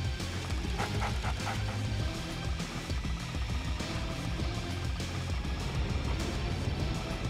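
Attack dogs from the video game Red Alert 2 bark in quick, overlapping yaps over a dense, loud game soundscape of rumbling effects and music, with several short bursts of barking clustered early on and scattered throughout.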